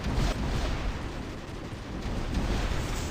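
Orbital strike explosions in War Robots land as a continuous heavy rumbling barrage of booms, loud and dense, with a strong blast at the start and more swells through the middle.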